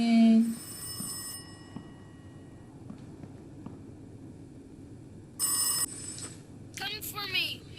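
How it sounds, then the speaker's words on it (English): A telephone ringing in the horror video game Rise of Insanity, with short bursts of a bell-like ring, a quiet eerie ambience between, and a brief spoken line near the end. "There's the phone ringing."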